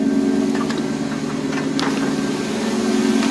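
A 1982–92 Firebird or Camaro that had sat for a few years, idling after a new fuel pump and tank install, giving a steady, even engine drone with a low hum, close and continuous, with no voices.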